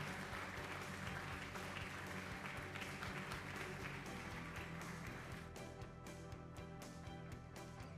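An audience applauds to welcome President Buhari at the 2016 U.S.-Africa Business Forum, a dense, sustained clapping from a large crowd that carries on for several seconds and thins slightly toward the end, heard from a distance.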